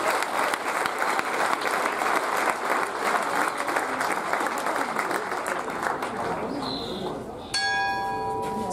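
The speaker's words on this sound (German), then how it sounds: "Hier ist ihr Applaus, Platz 8 bisher" Spectators at the German equestrian championships in Luhmühlen applaud a rider, steady close clapping that fades slightly before a ringing bell-like tone enters near the end.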